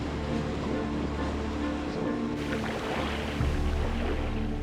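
Surf washing against a rocky ocean shore, a steady broadband roar with wind buffeting the microphone and a surge of water near the end.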